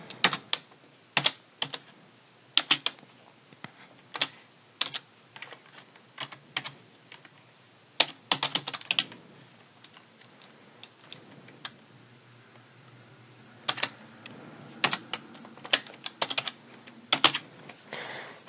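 Keys clack on a computer keyboard in quick, irregular bursts with short pauses, close and fairly quiet, with no voices.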